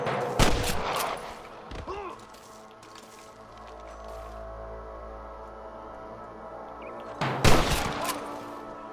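Bursts of rapid gunfire in the video game Red Dead Redemption crackle loudly at the start and again near the end, with a lower rumbling game soundscape in between.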